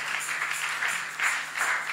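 A church congregation at a Sunday afternoon service claps for their pastor, a dense, steady patter of many hands with gentle surges, heard alone without talk.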